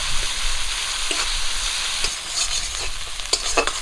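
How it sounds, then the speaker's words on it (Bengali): Steady sizzling of spices frying in hot oil, with occasional scraping stirs and crackles over a constant hiss. "মশলাটা একটু ভেজে নেব"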